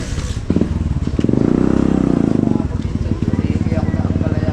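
A motorcycle engine runs close by with a steady, throbbing idle that rises briefly before settling into a regular chugging pulse, while people talk over it.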